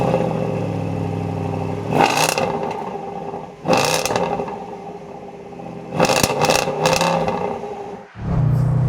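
A Range Rover Sport SVR with a slash-cut exhaust idles with a deep burble, then blips its throttle in several sharp, loud revs that crackle and pop close by.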